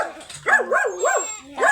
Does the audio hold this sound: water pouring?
no